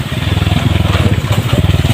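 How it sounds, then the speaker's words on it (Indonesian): A motorcycle engine runs near a house at the edge of a forest, a loud, close, rapid pulsing putter that holds steady without revving. "Oh, ini ada motor teman."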